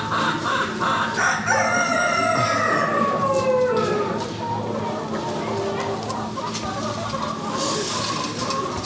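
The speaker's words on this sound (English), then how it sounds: "the salmon rooster" A chabo bantam rooster crows at an indoor chicken and rabbit show, one drawn-out cock-a-doodle-doo rising over a busy hall murmur with other fowl clucking nearby.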